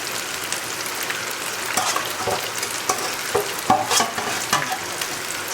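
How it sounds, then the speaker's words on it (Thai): Pork intestine deep-fries with garlic in hot oil, crackling and sizzling steadily at close range. Sharper pops and stirring scrapes break through the sizzle now and then. "ทอดให้ให้ไส้มันรู้สึกว่า เออ แห้งขึ้นมาหน่อยลอยขึ้นมานะครับ"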